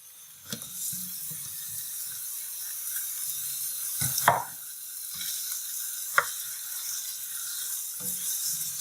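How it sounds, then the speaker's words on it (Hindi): Chicken with garlic-ginger paste frying in a karahi, a soft steady sizzle broken by a few sharp spoon scrapes and clanks as it is stirred. "चिकन को हम 1-2 मिनट तक भूनेंगे।"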